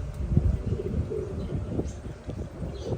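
Pigeons cooing in low, soft, repeated calls, fairly close, over a light breezy background.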